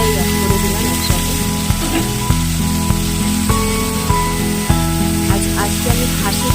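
Onion with ground turmeric, salt, coriander, cumin, ginger and garlic paste frying in goat fat, a steady close sizzle with clinking stirring taps throughout and faint speech in the background.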